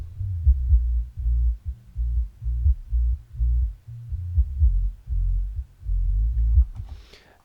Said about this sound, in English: And already we can hear the bass a little bit better.